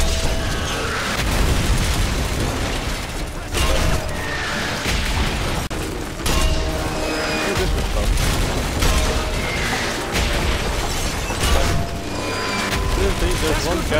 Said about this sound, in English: Keep firing the mortar!